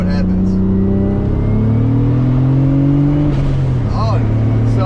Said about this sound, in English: So I'm gonna do a little third gear brake boost here